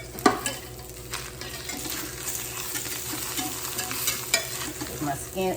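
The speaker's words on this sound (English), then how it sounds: "My fish is cooking. I don't want it to cook all the way. I just wanted that skin to cook." Salmon fillets fry skin side down in a pan, giving a continuous close sizzle and crackle with occasional utensil scrapes and taps over the top, no talking.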